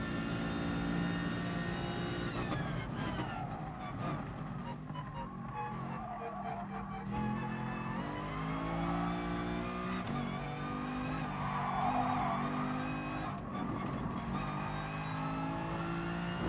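An AMG race car's engine in GT Sport drones and revs steadily while accelerating hard, with shifting pitch as gears change and occasional tyre noise, continuous with no talk.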